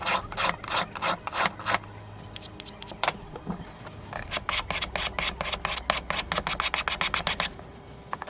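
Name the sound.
knife being sharpened on a whetstone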